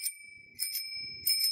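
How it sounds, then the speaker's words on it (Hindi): A child's new bicycle bell gives a few quick, light tings in short clusters, faint against near silence. "घंटी की आवाज सुनाइए"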